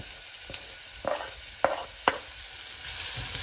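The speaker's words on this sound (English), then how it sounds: "you're going to put them in a pan with some olive oil" Chopped onions fry in olive oil in a pan with a soft, steady sizzle. A few sharp clinks and scrapes of stirring cut through it at intervals. Nobody speaks.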